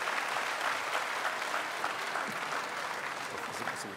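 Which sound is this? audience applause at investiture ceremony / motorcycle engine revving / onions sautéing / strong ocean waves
audience applause at investiture ceremony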